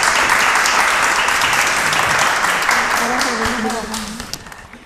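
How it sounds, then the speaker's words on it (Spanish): Studio audience applause for a contestant on a Spanish-language television quiz show, loud and dense, tapering off toward the end as a presenter's voice rises over it. "Fuerte aplauso para ella."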